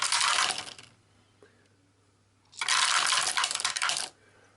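Eight dice clatter and rattle across a table in an Arkham Horror board game, with two separate bursts of rolling about two seconds apart and a quiet pause between them, close and fairly loud.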